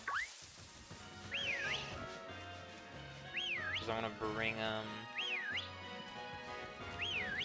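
A repeated rising-falling whistle call from Pokémon Shield sounds several times at steady intervals over game music, clear and fairly loud, with a person talking between the calls.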